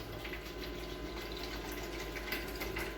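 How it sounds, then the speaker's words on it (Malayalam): Water runs and splashes steadily into a bowl set inside an egg incubator, a constant soft gushing with no pauses. "ഇപ്പോൾ അതിൽ ഫുള്ളായിട്ട് വെള്ളം ഒഴിച്ചിട്ടുണ്ട്"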